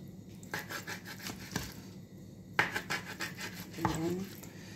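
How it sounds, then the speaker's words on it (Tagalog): Zucchini grated by hand in a home kitchen, producing a run of close, repeated rasping strokes in uneven bursts, with faint voices in the background. "Sabi ko, tutulong ako maggadgad ng zucchini."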